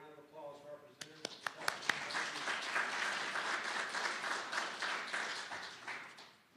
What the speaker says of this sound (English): let's give a round of applause for our presenters